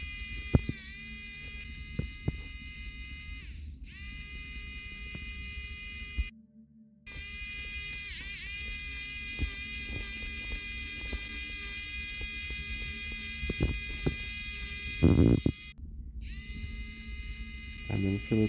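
Power screwdriver backing four tri-wing screws out of the back of a game console being opened for a V2 mod chip install, a steady close whine running almost throughout with a short pause partway.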